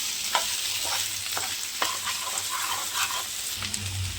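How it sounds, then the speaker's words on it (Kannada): Potato pieces frying in a pan, a steady soft sizzle with occasional scraping stirs, close and alone without voices. "ಇದು ಚೆನ್ನಾಗಿ ಫ್ರೈ ಆಗಲಿ, ಗೋಲ್ಡನ್ ಬ್ರೌನ್ ಆಗಲಿ, ಅಲ್ಲಿ ತನಕ ಫ್ರೈ ಮಾಡಿ."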